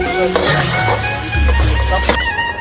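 Fish frying in masala on a tawa, a loud close sizzle with stirring noises throughout and a low musical tone running beneath.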